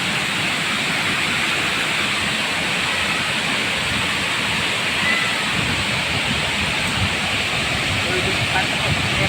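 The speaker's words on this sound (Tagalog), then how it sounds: "yung agos ng tubig" Water pours steadily at a waterfall near a beach, a constant broad rushing roar filling the scene at close range with no break.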